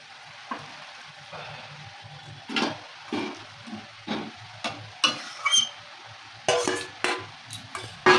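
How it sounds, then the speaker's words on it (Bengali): Stirring and scraping in a pot as eggplant is added to simmering bhola fish curry, with intermittent sizzling bursts and irregular clanks of a utensil against metal, close and fairly loud, no voices. "ঝোলটা একটু ফুটে গেছে, এবার আমি বেগুনগুলো দিয়ে দেবো।"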